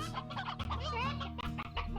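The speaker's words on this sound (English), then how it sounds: "I made a pen with the colored chickens." Chickens cluck in a pen in the video game Slime Rancher, giving a close, busy run of overlapping clucks and squawks for about two seconds.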